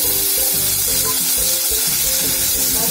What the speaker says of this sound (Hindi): अब इसमें अदरक लहसुन और ओनियन के पेस्ट को डालेंगे